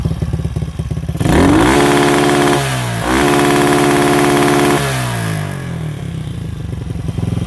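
Engine revving hard to 9000 rpm and bouncing off an adjustable ignition-cut limiter, loud and close, with a rising sweep into a steady stuttering limiter buzz, a brief dip, then holding again before falling back to idle.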